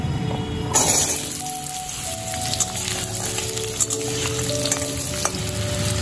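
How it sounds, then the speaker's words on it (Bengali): Potato pieces go into hot oil tempered with a dried red chili and nigella seeds, setting off a loud, steady sizzle close by that carries on under light clatter, with no speech. "এবার আমি প্রথমে আলুগুলো দিয়ে দেবো"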